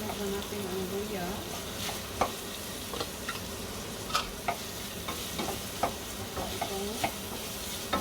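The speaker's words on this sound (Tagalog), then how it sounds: "Yan, gisa lang siya." Ginger and lemongrass sizzle in a small amount of oil in a pan, a steady close frying hiss broken by repeated scrapes and taps of a utensil being stirred, with brief quiet talking in the background.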